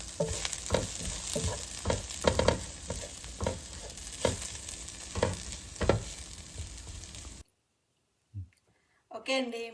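Ground lentil and spice powder is stirred quickly in a hot pan, with repeated scraping spatula strokes over a constant sizzle for about seven seconds. Then it goes quiet, and a brief voice follows.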